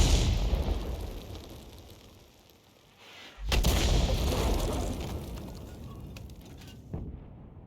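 M44 self-propelled artillery in World of Tanks fires with heavy booming blasts, a sustained rumbling barrage that fades, then a sharp loud detonation followed by rolling explosive rumble and a final distant crack.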